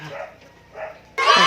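A German shepherd barks, with two muffled bursts early and then a loud, close, harsh bark or yelp at the end.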